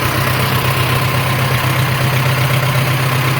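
A 1947 Farmall M tractor engine, one with cylinder head issues, idles steadily and loudly up close, a constant low throbbing rumble with no talk over it.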